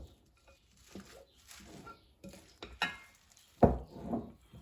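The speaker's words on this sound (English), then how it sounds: "we carefully mix this all up" Soft clinks and scrapes of a utensil mixing Malaysian tofu salad with sauce in a bowl, quiet intermittent stirring with one louder clatter near the end.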